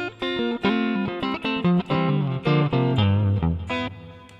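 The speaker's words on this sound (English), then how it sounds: "I'm going to put on a church reverb." Guitar notes and chords played through a Mooer GE200 church reverb, spacious and lingering, each note blending into the next; no voices.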